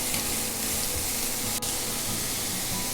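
Chopped carrot frying in a pan with oil, a steady broadband sizzle that holds throughout, with one brief sharp tick partway through and no talking.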